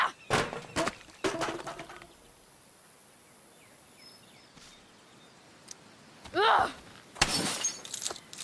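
Sharp, loud crashes of glass and junk being smashed in Life is Strange: Before the Storm, several bursts of breaking and shattering early on and again near the end, separated by quiet stretches.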